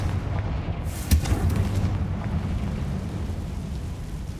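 A Confringo fire spell from Hogwarts Legacy detonates in a single muffled boom, followed by a sustained rumbling roar of flames and debris that slowly fades, with no voices over it.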